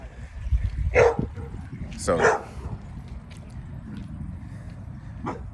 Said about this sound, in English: This dog barking.